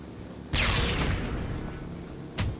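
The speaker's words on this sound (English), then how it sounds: "with even more of the same explosion animation and sound, I might add" A loud explosion from the video game Ride to Hell: Retribution booms suddenly and rumbles on with a long decaying roar, then a second blast hits near the end, with no talking.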